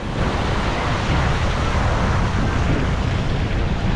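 Steady rushing of a river current on the Dupinga River in Gabaldon, Nueva Ecija, a dense, unbroken wash of water noise mixed with wind buffeting the microphone, with no voices.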